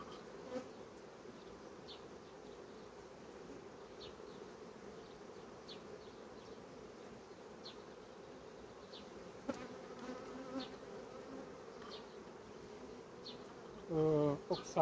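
Honey bees buzz steadily inside a hive during queen rearing, a continuous close drone with faint rhythmic ticks, alone without talk.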